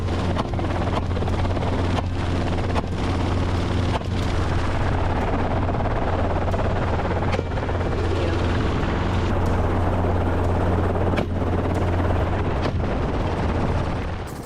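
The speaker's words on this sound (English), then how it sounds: "these modern helicopters can scream across the landscape at speeds up to 160 miles per hour, hugging the terrain" A low-flying helicopter used for wild hog hunting drones loudly and steadily throughout, with a constant deep rotor hum and occasional sharp thuds or cracks over the roar.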